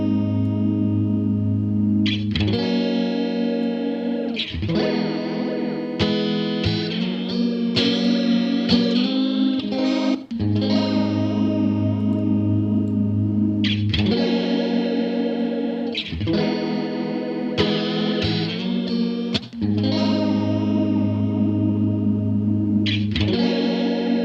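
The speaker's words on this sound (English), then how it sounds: "it's going to be the Courtesan flange based on the Electro-Harmonix Deluxe EM." Guitar run through the Helix Native Courtesan flange, modeled on the Electro-Harmonix Deluxe Electric Mistress, sustained chords and riffs with a sweeping whooshy wash, loud and continuous with no talk.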